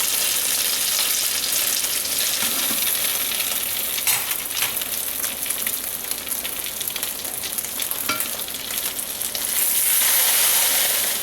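Egg foo yung, an omelet-style patty of Chinese vegetables and egg, sizzles steadily in a hot pan, a dense continuous crackle with small pops that swells louder near the end, with no voices.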